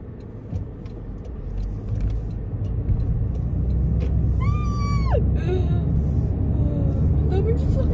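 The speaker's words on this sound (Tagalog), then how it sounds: "Ang daming sasakyan." Road traffic with many cars heard from inside a vehicle while driving, a steady loud rumble of engines and tyres with a rising whine partway through, and a voice talking over it.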